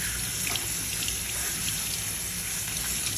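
Fern vegetables (pako) being washed under a running tap, a steady close splash of water into a sink that runs without pause and with no talking.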